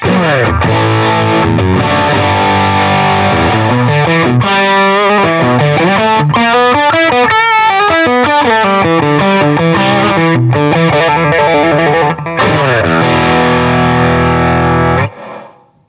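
A loud, heavily overdriven electric guitar plays chords and riffs through a cranked Stone Deaf SD-30 amp head in 8-watt mode, gain high, sustained and gritty, ringing out before cutting off at the end.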